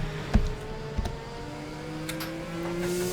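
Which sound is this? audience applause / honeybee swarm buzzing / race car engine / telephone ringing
race car engine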